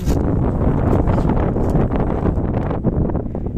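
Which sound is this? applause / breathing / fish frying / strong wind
strong wind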